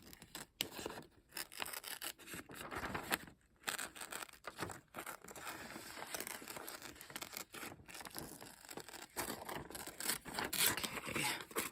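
Scissors cutting out a paper piece for a craft collage, with close, continuous snipping, rustling and rasping of paper in irregular bursts throughout, no talking.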